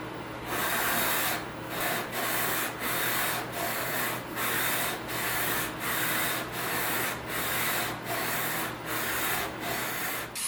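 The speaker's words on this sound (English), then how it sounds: "I'm simply just adding a 16-inch radius to the fretboard." Rhythmic back-and-forth sanding of a 16-inch radius into a guitar fretboard, steady rasping strokes about every 0.7 seconds, close and continuous with no talk.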